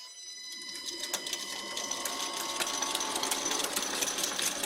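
Sandpaper rubbing a wooden handle spinning on a lathe, a steady rising buzz with fast rhythmic scratching under the motor's whine, close and fairly quiet.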